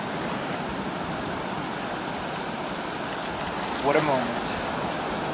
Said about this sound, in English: Just listen to the sound of the surf hitting the beach.